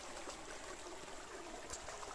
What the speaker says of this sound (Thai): นี่น้ำไหลลงจากภูเขานะคะริมลำธาร